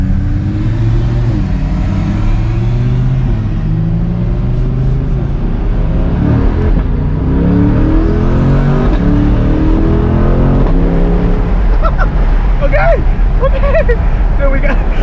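A 2023 Chevrolet Corvette C8 accelerates hard from inside the cabin, a loud steady engine drone rising in pitch through the gears, with a person talking over it.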